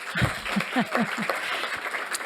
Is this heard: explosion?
no